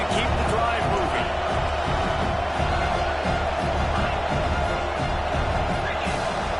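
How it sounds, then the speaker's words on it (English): A stadium crowd roars loudly and continuously at a college football game, the Hoosiers on offense on third and short, a dense unbroken wall of noise. "with this place rocking, the crowd forces a false start."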